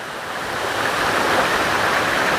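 Eliza Brook on the Appalachian Trail near Kinsman, a small cascade of water rushing steadily over rocks, a close, even hiss with no voices.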